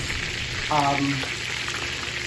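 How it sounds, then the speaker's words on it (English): Chicken, partly floured, frying in hot oil, giving a steady soft sizzle with light crackle that runs through the whole stretch, with a brief faint voice partway through. "the rest of that is just frying in the oil"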